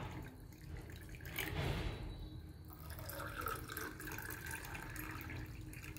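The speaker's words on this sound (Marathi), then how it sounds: "आता आपण पाणी टाकून घेऊ. आता मी माठातलं पाणी वापरलंय." Water from a clay pot poured into a glass of raw mango drink, a broad steady splash that swells briefly in the middle and then settles into a softer running trickle, close and alone.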